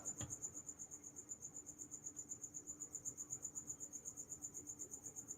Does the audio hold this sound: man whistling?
no